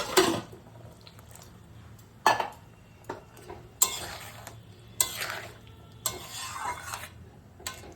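A pan of curry with potato, tomato, onion and ginger paste, cooking with a sizzle while a spoon stirs and scrapes the metal pan in several sharp bursts, close by.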